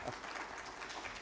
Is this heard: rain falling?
no